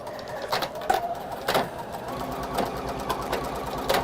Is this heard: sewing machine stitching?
yes